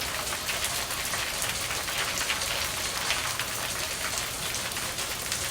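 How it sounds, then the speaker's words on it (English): Steady rain patters on a surface, a dense continuous hiss of drops with no voices. "they said they wanted rain. There you go."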